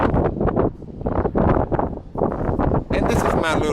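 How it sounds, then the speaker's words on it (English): Strong wind outdoors beside the Detroit River buffets the microphone in loud, irregular gusts that swell and drop over a few seconds, close and rumbling. "I'm sure the camera is picking up all the wind"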